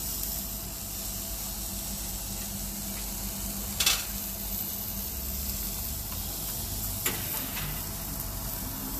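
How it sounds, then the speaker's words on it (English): Reverse-seared beef and tomatoes sizzle steadily on a grill, a continuous broadband hiss running the whole time with a couple of brief louder crackles; no one speaks. "can you hear that sizzle?"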